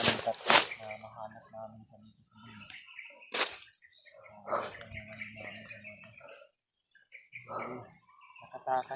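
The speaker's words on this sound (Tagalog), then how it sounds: "May ibon mga tol." Bird chirps outdoors, brief scattered calls heard between people talking nearby, with quiet gaps in between.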